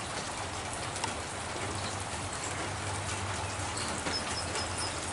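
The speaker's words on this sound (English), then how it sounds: "the rain woke me up this morning" Steady rain falls continuously on surfaces outdoors on a wet morning, a dense even patter with no pauses, moderately loud and close, with an occasional faint bird call in the background.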